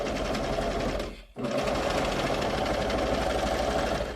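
A serger sewing machine runs fast and steadily, stitching through fabric with a dense, buzzing mechanical whir. It pauses briefly, then runs loud and close again without a break.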